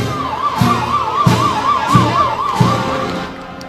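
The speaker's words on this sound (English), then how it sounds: "that siren means that we are done" A wailing siren marks the final play of a high school football game between Marshall and Sharpstown, rising and falling in a steady warble over about three seconds before fading, with periodic thumps and stadium noise beneath.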